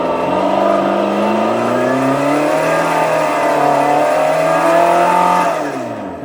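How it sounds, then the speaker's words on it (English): An EVSMA-1 sound module on an electric motorcycle produces a simulated engine note that climbs steadily in pitch like a long single-gear run, then drops away, loud and continuous with no talking. "let's give it a little rev, and you can hear with the hall pickup sensor"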